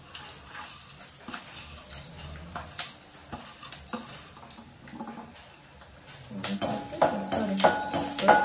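Onion and ginger sauté with spices such as cardamom, fennel and cinnamon in a pan, a low sizzle with scraping stirs that grows louder and busier toward the end, with some clatter.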